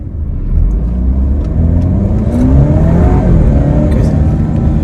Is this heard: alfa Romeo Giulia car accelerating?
yes